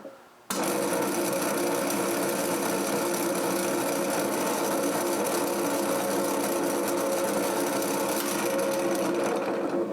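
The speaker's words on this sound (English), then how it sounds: "Do you see how much slower this gear turns?" A small electric motor drives a gear reduction train, starting abruptly and then holding a steady close whine with a constant hum for several seconds, no talking.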